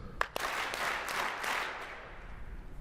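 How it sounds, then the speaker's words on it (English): A crowd at a climate-policy talk answers a prompt with group clapping: a few sharp individual claps open, then a broad, sustained burst of many hands that gradually thins out. "Clap 4 times if you're willing to join your peers and say so."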